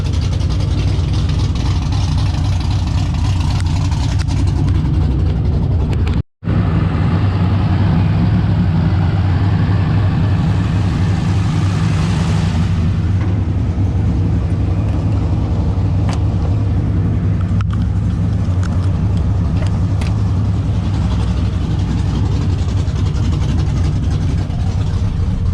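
Rebuilt LS engine in an OBS truck running after a fuel pump repair, a loud steady close idle rumble with a brief dropout, holding a constant low drone throughout.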